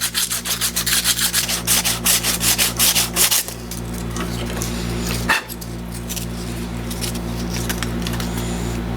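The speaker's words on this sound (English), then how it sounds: "So I'm just going to keep sanding" Rapid rhythmic scraping of folded sandpaper rubbing back and forth on a 1925 Holton alto saxophone for several seconds, then a softer continuous rub, close by with a low steady hum.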